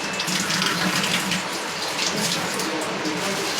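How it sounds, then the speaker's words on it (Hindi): Tap water runs steadily into a sink while hands are washed during an RO water purifier repair, a loud continuous splashing hiss throughout, with faint voices in the background. "हाथ धो लेने का।"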